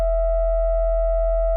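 Two stacked sine waves set four octaves apart, made in the Serum synthesizer, ring out as one pure, steady, unchanging tone that is loud and alone, with no voice present.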